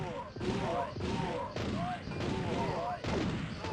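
Video game gunfire from a PlayStation demo disc title: a steady run of loud, close shots and booms repeating about every half to one second, with a voice talking over it.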